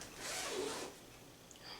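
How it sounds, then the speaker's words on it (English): A zipper on a handmade quilting-fabric garment with back waist darts is pulled in one steady, close rasping sweep, then a quieter tail of small tugs and clicks. "It has a zipper."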